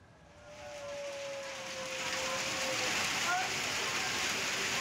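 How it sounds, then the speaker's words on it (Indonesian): Steady heavy rain with strong wind in Ponorogo, East Java, hisses and builds in intensity, with a faint tonal whine early on and a broad roar of downpour and gusts. "Hujan deras disertai angin kencang melanda wilayah Ponorogo, Jawa Timur Selasa sore."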